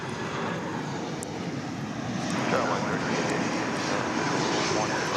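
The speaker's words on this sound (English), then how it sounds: "We've got what looks to be American Airlines Airbus A319 touching down." An American Airlines Airbus A319 jet touches down at DFW Airport, its broadband engine roar loud and steady, swelling slightly as it nears and holding at a sustained rumble throughout.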